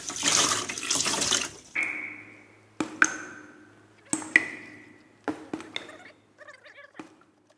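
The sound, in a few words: squeezing water from a sponge into a bucket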